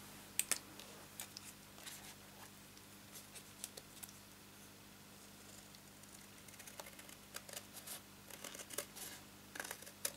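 Big scissors cut cardstock by hand in a quiet craft room, a series of faint, short, crisp snips and rustles at irregular intervals over low background hum.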